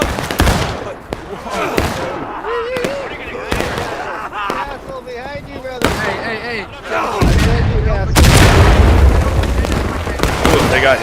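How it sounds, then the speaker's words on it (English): Artillery fire hitting troops in an American Civil War video game of the Tennessee River campaign, repeated loud booms and crackling blasts at irregular intervals, ending in a heavy sustained roar, with speech between. "They got hit by their own artillery, I think."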